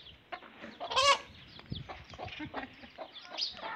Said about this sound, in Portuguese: essa galinha é valente demais